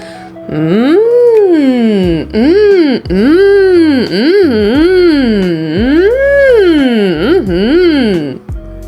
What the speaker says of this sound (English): Now a hum, but this time with the sound of approval in it.